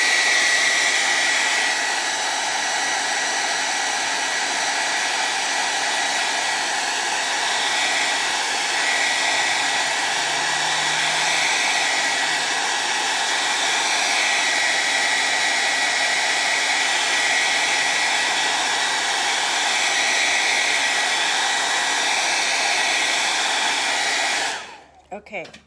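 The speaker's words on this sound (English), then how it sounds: "now we're going to blow dry this paint" A hair dryer blows steadily on wet paint on a garden urn and flowers painting, a loud, continuous whooshing hum that runs unbroken before cutting off abruptly at the end.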